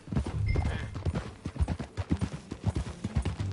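Horse hooves gallop in Red Dead Redemption 2, a quick, rhythmic clip-clop of thudding beats close by that carries on steadily, with faint ambient game sound beneath.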